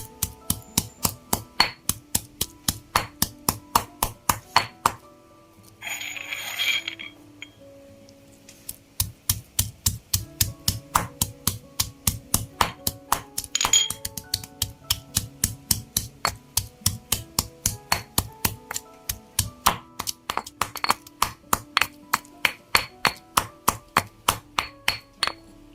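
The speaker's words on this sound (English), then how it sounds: "Now I'm going to pound these shallots and garlic into fine paste." Shallots and garlic are pounded into a fine paste with rapid, regular thuds that run close and loud almost throughout, broken by a brief pause with a rustle partway through.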